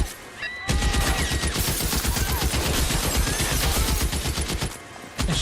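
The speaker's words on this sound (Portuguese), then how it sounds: "Alto tiroteio." Gunfire shootout in the video game L.A. Noire: dense rapid bursts of shots crackle continuously in a loud, sustained fusillade, preceded by a brief quieter moment with high whistling tones.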